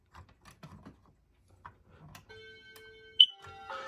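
A Kidde P9030L smoke detector is tested, first with faint handling clicks and then a steady, piercing electronic alarm tone that holds and rises in strength near the end, heard close up in a quiet room.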